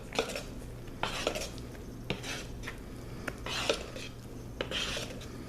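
Hot process soap being stirred and blended in a pot, with repeated soft scraping and clinking of a utensil against the metal in uneven bursts, close and moderately quiet.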